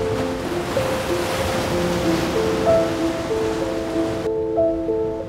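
Sea waves breaking on a shore, a continuous broad wash of surf with wind, steady and fairly loud, with tonal music running over it.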